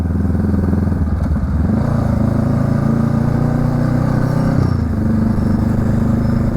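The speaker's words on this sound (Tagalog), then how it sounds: "Ang daming, daming motor ah." A group of motorcycles rides past on a road near Antipolo, their engines droning loudly and steadily close by, with the pitch shifting as bikes pass.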